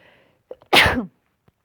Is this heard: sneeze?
yes